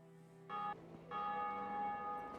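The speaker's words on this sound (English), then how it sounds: "I also get another trophy for ringing that second bell." A church bell tolls in the Dark Souls video game, two struck rings with long resonant harmonic decay, the second ringing on and sustaining, clear and alone without speech.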